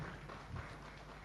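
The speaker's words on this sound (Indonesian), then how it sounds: "kita beri tepuk tangan, ya." Applause at a graduate-candidate release ceremony for bachelor's and master's students, a quiet, steady patter of many hands in a hall, lasting a little over a second with a faint thump midway.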